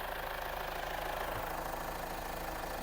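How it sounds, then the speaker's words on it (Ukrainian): A 2019 Opel Insignia Sports Tourer engine idles steadily at close range, a low even hum with a faint mechanical ticking and no voices. "Моторчик працює все рівненько."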